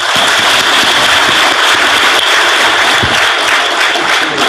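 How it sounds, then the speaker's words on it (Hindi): Loud, steady applause from a crowd at a prize-giving, dense clapping sustained throughout without pause. "जिनको प्राइज मिला उनके लिए जोर से ताली बजा दो"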